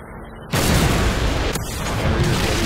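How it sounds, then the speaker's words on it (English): A Predator missile strike explodes in Modern Warfare 2 multiplayer, a sudden loud boom after a brief quiet lead-in, followed by a rumbling, crackling roar that stays heavy to the end. "Friendly Predator missile incoming."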